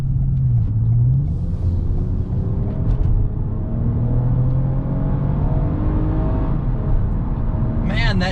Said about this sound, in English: that intake and that exhaust adds such more excitement